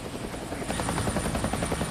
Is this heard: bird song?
no